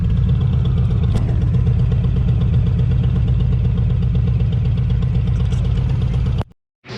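A motorcycle engine runs steadily, heard from the bike itself during a Ride Like a Pro riding course, a loud, even mid-pitched drone with wind rumble that cuts off abruptly near the end.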